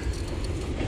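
A loud train rumbles steadily past a fishing spot, its heavy low roar and rattling filling the short moment without letup.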